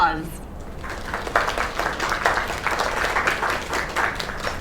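A game's audience breaks into a round of applause, dense clapping that holds steady at moderate distance after a brief voice at the start.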